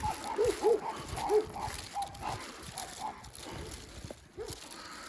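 Several dogs in a rural village bark in short, repeated bursts at moderate distance, with some yelps mixed in over a busy background.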